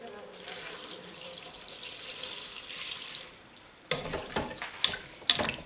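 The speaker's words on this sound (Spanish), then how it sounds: "Y le vamos a poner ya el agua." Water pours steadily into a cooking pot, likely an Olla GM multicooker, for chickpeas with chorizo and spinach: a continuous splashing rush for several seconds, then breaks into scattered clinks and splashes.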